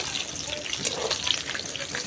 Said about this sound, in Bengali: মাছগুলো দিয়ে ভেজে নেব